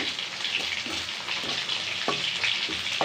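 Brinjal mixture sautéing in oil in a pan, a continuous bright sizzle broken by several soft scraping stirs of a spoon, heard up close with no talking.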